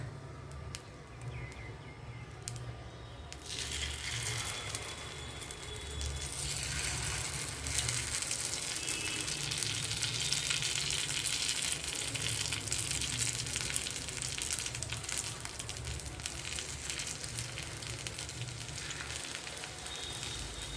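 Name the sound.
paddu batter frying in oil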